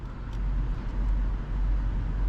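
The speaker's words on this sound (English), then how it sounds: "I love the engine in this car because it just sounds amazing." Steady low engine drone from a 2023 Infiniti QX80 Premium Select with its naturally aspirated V8, heard from inside while driving, with road noise blended in and no talking.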